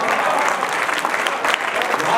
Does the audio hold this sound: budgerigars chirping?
no